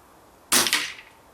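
An air rifle fires H&N FTT pellets in a single sharp, close shot, with a crisp crack and a brief, quickly decaying tail in an otherwise quiet setting. No one speaks.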